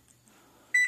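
Microwave oven being started to heat a bowl of dog poop, a faint click and rustle followed by a sharp electronic beep near the end, close and clear with no voices.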